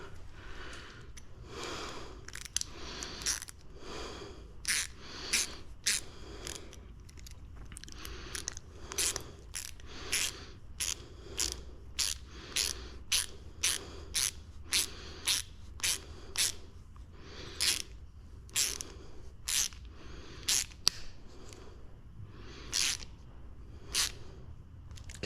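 A 7 mm wrench ratchets steadily while a bolt on a KTM fuel pump install is tightened, giving a long run of quick, crisp clicks in short bursts, close up and fairly quiet, with no talk.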